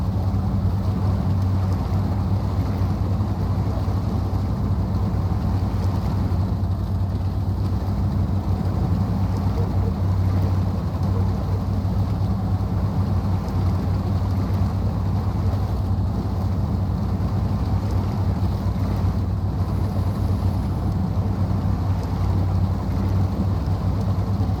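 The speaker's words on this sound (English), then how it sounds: "Monster truck gets up and goes pretty good for the engine" A Dearborn D-150 monster truck engine in SnowRunner drones steadily, a loud continuous low rumble with no pauses and no talk.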